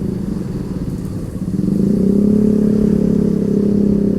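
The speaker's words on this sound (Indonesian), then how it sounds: "pakai knalpot racing, tapi seenggaknya gue pakai yang agak adem, ngebasnya enak" Yamaha Nmax 155cc scooter engine fitted with a racing exhaust, a deep bassy drone that swells from a low idle into a sustained loud rev, steady and close with no voices.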